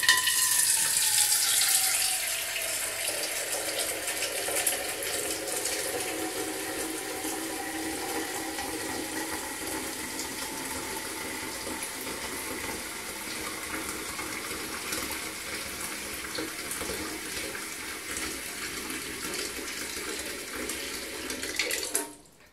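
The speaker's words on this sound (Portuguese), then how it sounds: "Então, estou usando a água aqui da torneira." Tap water pours from a faucet into a clay water filter, a continuous splashing stream whose pitch slowly rises as the vessel fills, steady and close for over twenty seconds before stopping abruptly.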